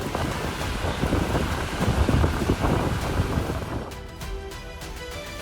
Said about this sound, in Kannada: ಮಳೆ ಅಬ್ಬರಕ್ಕೆ ರಸ್ತೆಯಲ್ಲಿ ನೀರು ಉಕ್ಕಿ ಹರಿಯಿತು